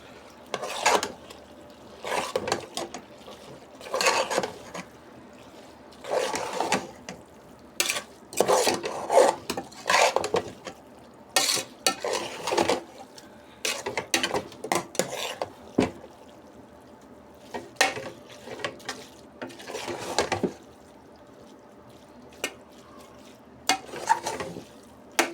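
Cooked spaghetti being mixed with mutton in a pan for mutton noodles, giving repeated scraping, rasping strokes in irregular bursts over about twenty-five seconds, moderately close, with a faint background hum.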